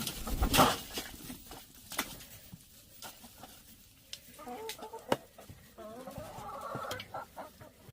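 Backyard chickens cluck and murmur softly nearby amid scratching and pattering, with a few louder rising calls toward the end.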